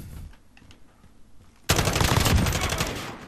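Rapid automatic gunfire from the video game Modern Warfare erupts suddenly after a quieter stretch with faint distant shots, loud sustained bursts continuing to the end.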